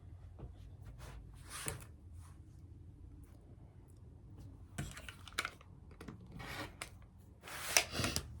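Quiet, sparse cuts and rustles as purple quilting fabric is trimmed into 2.5 inch squares, with scattered short scraping strokes and a few louder slices near the end.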